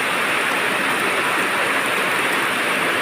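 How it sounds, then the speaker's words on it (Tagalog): Heavy rain pours down in a steady, dense hiss with no pauses. "Malakas talaga ang ulan."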